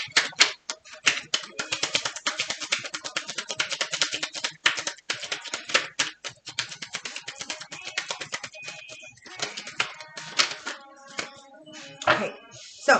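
Rapid crisp flicking and riffling of tarot cards in quick irregular bursts, close up, with brief pauses between shuffles.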